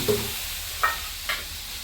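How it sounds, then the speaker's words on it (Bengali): Spice paste mixed with a little water hits hot oil with bay leaves for a sea fish curry, crackling into a steady sizzle with a few sharper bursts of spitting and stirring. No voices. "তেজপাতা গরম হয়ে গেছে, এখন আমি মশলাটা তেলের ভিতরে দিয়ে দেব।"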